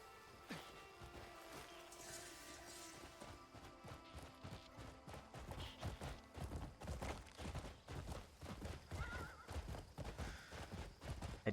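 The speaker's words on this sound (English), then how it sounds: "Also, apparently she has her own horse." Horse hooves clip-clop in a steady, quickening rhythm in the video game Crimson Desert, with a whinny early on and the footfalls growing louder and denser toward the end, no talk.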